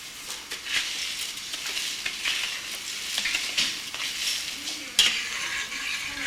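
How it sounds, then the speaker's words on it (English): Washed rice being stirred into a sauce in a saucepan on a stovetop while cooking beef jollof rice in Ghana: a moderate, continuous sizzle broken by scraping strokes and an occasional sharper clink of the spoon. "As she put the rice in, she is stirring it. So it's all coated with that lovely sauce that's in the saucepan."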